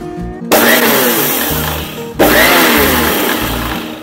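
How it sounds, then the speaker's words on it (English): A mixer grinder run in pulse mode grinds roasted sesame seeds into a coarse powder, giving two loud whirring bursts, each starting abruptly and running steadily with a rattling grind, and separated by a brief pause. "You use the mixer in the ulta way so that it is in the pulse mode and you just have to grind it"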